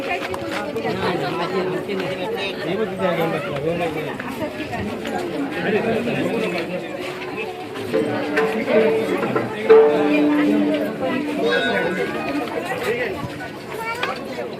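A large, dense crowd murmurs steadily at a Mahashivratri temple fair (jatra) in Konkan, a continuous chatter of many nearby voices with a person talking over it.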